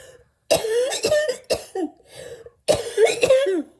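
Several harsh, wet coughs come in quick bursts, close up, with a brief pause before another cluster of coughing and throat clearing.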